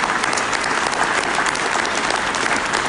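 Crowd applause at a French mayor's New Year address in Aulnay-sous-Bois, a thick, even roar of many hands clapping continuously and loudly, with no voices over it.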